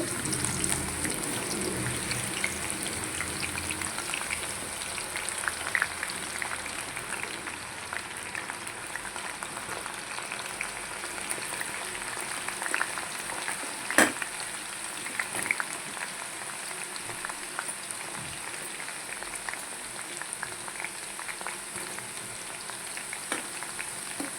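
Sliced okra fries steadily in hot oil, a dense continuous crackle and sizzle with scattered sharper pops, close and even throughout with no talking.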